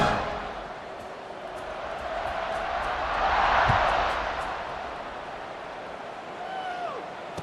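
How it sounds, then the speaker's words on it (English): Football stadium crowd at an Arizona State versus Michigan game, buzzing after a touchdown: a broad, steady roar of many voices that swells briefly in the middle, heard at a distance. "this crowd is buzzing after that last score"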